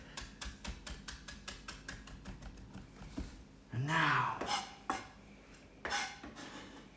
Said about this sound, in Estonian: Hops, natuke murulauku, tilli. Ja tükeldame ka need ära.